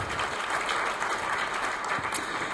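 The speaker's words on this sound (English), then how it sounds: "How about a round of applause?" Audience applause at a community startup gathering, a steady, dense wash of many hands clapping that fills the room evenly from start to finish.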